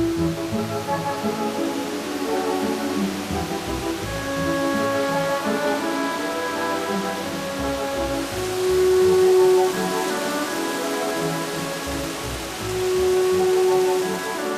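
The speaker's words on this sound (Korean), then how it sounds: "그 안에서 흐르고 있는 이 폭포나 이런 물줄기는 굉장히 생기발랄한 느낌을 주고 있습니다." A waterfall and streams flow through an old, wet forest in Aomori, Japan, making a continuous soft rushing wash under gentle background music.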